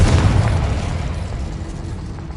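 An explosive Confringo spell cast in the Hogwarts Legacy video game, one loud, heavy boom that hits at once and then rolls off into a long, fading rumble, with no voices.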